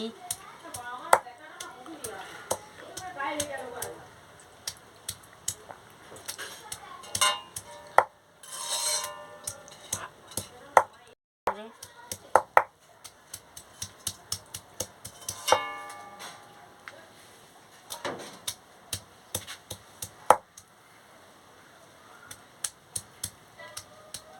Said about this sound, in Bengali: রসুনটা ছেঁচে নিচ্ছি